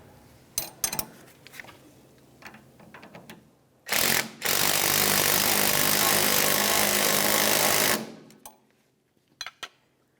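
A power tool runs in one loud, steady four-second burst while tightening sway bar bushings on a 2002-2005 Ford Explorer, preceded and followed by soft clicks and handling noises nearby.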